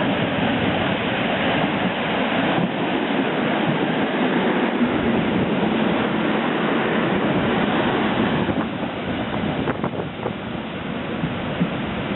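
A Przewozy Regionalne Interregio passenger train from Wrocław to Chełm rumbles past steadily with broad, rushing noise throughout, like wind, with a few rattling clicks near the end and no voices.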